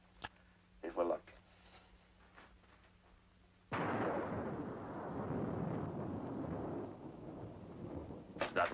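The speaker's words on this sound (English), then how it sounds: "Is that real thunder?" Rumbling thunder from a night storm near a wartime train station rolls in abruptly after a quiet stretch with some faint voices, then keeps growling as a sustained, broad, moderately loud roll to the end.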